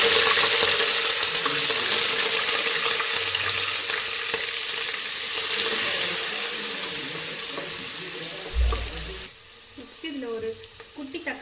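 Onion, green chilies and curry leaves sauté in hot oil in a pan, giving a steady, close sizzle that runs almost throughout before dropping away near the end, with a few clinks.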